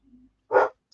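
A single loud bark from a dog indoors, short and full, preceded by a faint low whine or hum and followed by silence.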